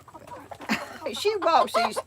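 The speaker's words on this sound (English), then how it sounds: "I got too many chickens running around" Chickens clucking close by in a yard, a few short clucks and throaty calls in a quick irregular run, moderately loud over faint background noise.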